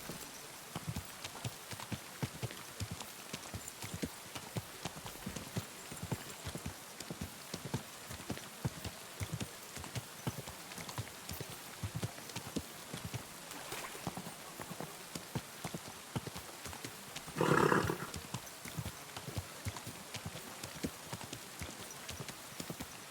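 A horse walking slowly, its hooves clip-clopping in a steady, even rhythm throughout, with a brief louder burst of noise partway through and no talk.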